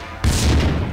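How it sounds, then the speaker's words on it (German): Grenade blast in the video game Max Payne 2, a grenade thrown against a window: a sudden loud, close explosion after a brief quiet moment, followed by a rumbling, crashing decay. "Er ist eine Granate gegen das Fenster geworfen."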